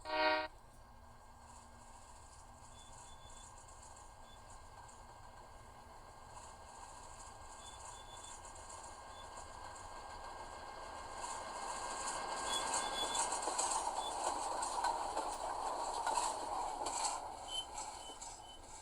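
A freight train in the video game Trains and Railroads opens with a short horn blast, then rolls on with a steady rumbling clatter that swells and lingers as the cars pass into the distance.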